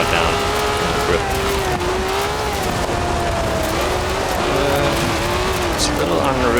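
A 1967 Ferrari 330 race car in Forza Horizon 4 drives continuously, its engine note rising and shifting with speed while tires hiss and squeal, loud and steady throughout.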